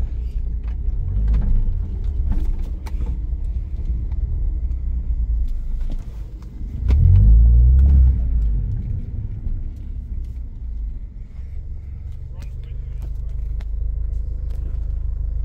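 A Mini R55 car at a race track, its engine rumbling loudly and continuously from inside the car, swelling to a heavier surge partway through before settling back to a steady drone.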